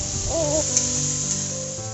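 Steady sizzling of a turmeric, ginger, onion, garlic and chilli paste frying in a pan, a soft continuous hiss with a brief tonal voice-like trace early on.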